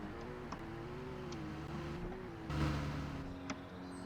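A car in the Greenville video game accelerates during a top speed test, its steady engine drone holding with shifting harmonic tones and a brief louder surge partway through, no voices.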